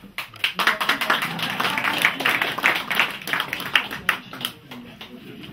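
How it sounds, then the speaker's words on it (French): Audience applause during a political campaign meeting, a crowd of clapping hands that swells and stays lively for several seconds before fading slightly, fairly close and loud. "On va applaudir."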